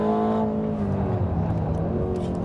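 Loud Aston Martin Vantage engine, a deep, sustained droning roar that holds steady and close throughout with a slight rise in pitch, heard alone without any voices.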